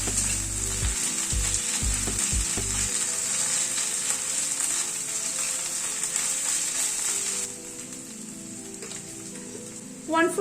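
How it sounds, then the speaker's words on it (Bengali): Ginger and garlic paste frying with onions in a pan, a steady close sizzle with a hum underneath that drops noticeably near the end, no voices. "আদা রসুনটা দিয়ে পেঁয়াজের সাথে ভালো করে ভেজে নেব।"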